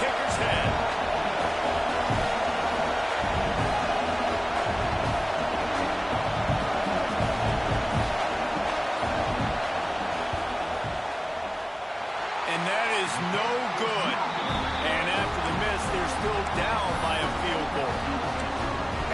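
A stadium crowd roars in an NCAA college football video game at Michigan versus Penn State during a fourth-down field goal attempt, a dense, steady wash of crowd noise running throughout with commentary voices on top.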